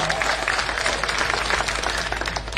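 Audience applause at a political election rally in Majalgaon, a dense wash of clapping from a large crowd sustained throughout, with faint voices mixed in.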